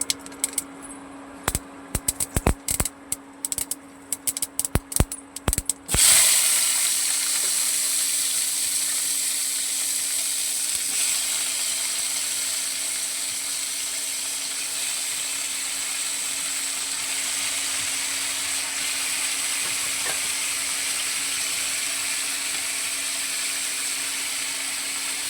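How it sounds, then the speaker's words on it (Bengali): White mustard seeds and dried red chillies dropped into hot oil for a chutney: a few sharp crackles and pops give way to a loud, steady, close-up sizzle that continues unbroken. "আমি আগে সর্ষে দিয়ে দেবো, সাদা সর্ষে, আর একটু শুকনো লঙ্কা দিয়ে দেবো।"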